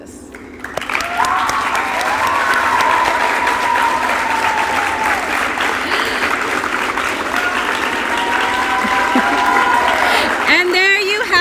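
Applause from an audience at a high school letter of intent signing swells in quickly and holds as steady, fairly loud clapping, with some voices faintly underneath.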